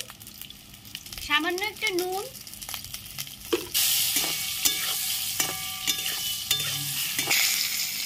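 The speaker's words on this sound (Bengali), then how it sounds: "কেটে রাখা বেগুনগুলো আমি ভেজে নিচ্ছি।" Cut eggplant pieces sizzling in a pan as a spatula stirs them, a hissing fry that grows louder midway, with scraping clinks and someone speaking briefly over it.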